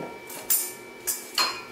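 A knife slicing through a citron fruit, giving three brief crisp cutting strokes with a soft clack as the blade meets the board, close and alone.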